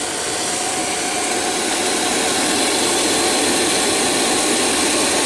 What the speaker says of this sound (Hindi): और ये पंखे की आवाज़ है, पंखा भी चल रहा है।